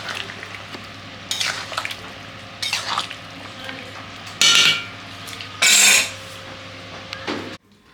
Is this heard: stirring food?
yes